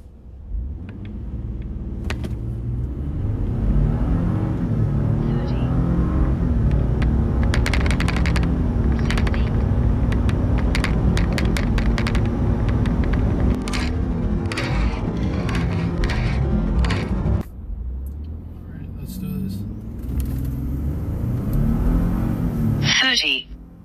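A Ford F150 EcoBoost pickup fitted with a cold air intake accelerates hard on a drive, its engine roar and road rumble loud and continuous throughout, with a brief dip before the engine pulls again and clicks and rattles from inside the cab.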